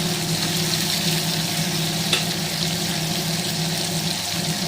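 Whole tomatoes frying in a pan for a Tamil-style tomato curry give a steady, close sizzle and hiss, with faint stirring scrapes and one brief clink partway through. No one speaks over it.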